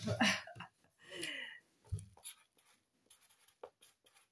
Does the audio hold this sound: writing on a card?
yes